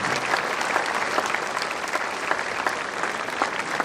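An audience at a school Founders Day assembly breaks into sustained applause, a dense wash of many hands clapping at a steady level for several seconds.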